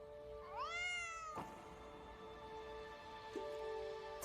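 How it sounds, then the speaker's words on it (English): A cat meows once in a drama trailer, a clear rising-then-falling cry, followed by a sharp thud and a sustained musical tone in the background. "Kitty แมวหนูติดอยู่บนต้นไม้ค่ะพี่"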